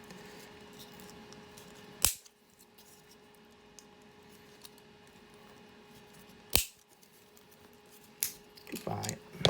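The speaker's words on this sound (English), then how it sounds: "So I'm going to cut the windscreen off, or out" A clear plastic windscreen is cut out of a scale model kit with a few sharp, close snips and clicks against a quiet room, followed by soft handling rustles.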